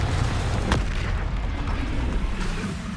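A spell-cast explosion in Hogwarts Legacy booms low and heavy, with a sharp crack near the start followed by a rumbling, roaring tail that fills the whole moment.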